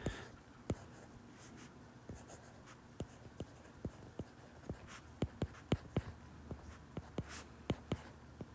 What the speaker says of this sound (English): let's go ahead and take a second and write the equation at the top